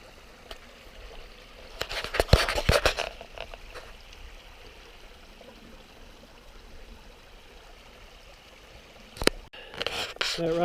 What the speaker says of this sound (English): We've got some running water here in the river.